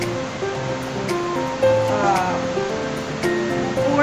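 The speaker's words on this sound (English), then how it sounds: "I'm going to pour water in order to wash the feminine solution" Warm water is poured over the perineal area during a caregiving hygiene procedure, a soft splashing trickle heard under someone speaking.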